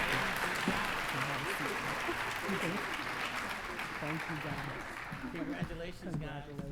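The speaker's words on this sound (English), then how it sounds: "let's give a hearty round of applause for their hard work" Applause from an audience at a high school senior awards night, sustained clapping from a large crowd with people talking over and under it, fading slightly toward the end.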